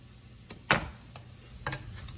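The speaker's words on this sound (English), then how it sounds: "now we're going to go ahead and add our 3 cloves of garlic" Three cloves of garlic frying in olive oil give a soft, steady sizzle, broken by a few quick clinks and scrapes of a utensil in the pan.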